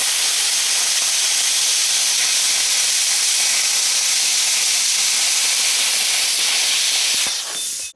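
A BestARC 110 volt plasma cutter slicing through metal plate, a loud, steady, close hiss that holds constant for several seconds and then cuts off abruptly.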